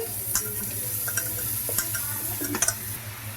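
Ridge gourd and tomato pieces frying in a pan for a curry, giving a continuous bright sizzle with a few light spoon taps and stirring clicks, close and steady, no voices.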